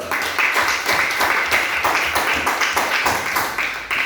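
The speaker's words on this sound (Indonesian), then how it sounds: "tepuk tangan dulu" A class of eighth-grade students in a Quran and Hadith lesson claps together in a rhythmic, evenly spaced beat, each burst of hands landing close and loud in a repeating pulse.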